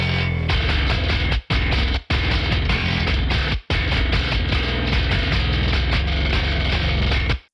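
Distorted metal bass guitar with reverb and stereo widening effects plays dense, loud riffs in a driving rhythm, broken by a few brief stops.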